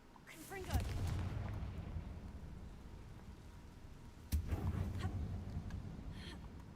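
Explosive fire spell blasts in the Hogwarts Legacy video game inside an old mine: two booming bursts with a rumbling tail, the first near one second and the second about four seconds in, over a low echoing ambience.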